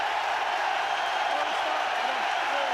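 A stadium crowd at a St Helens versus Huddersfield Giants rugby league match roars and cheers in a loud, sustained, dense wash of noise heard from within the ground.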